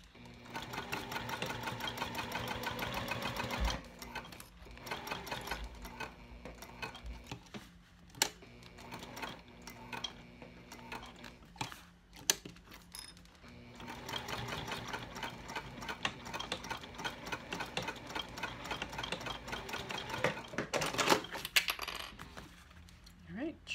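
A sewing machine stitches a bifold wallet in several sustained runs separated by short pauses, with small clicks and handling noises between bursts; the machine is moderately close and clear.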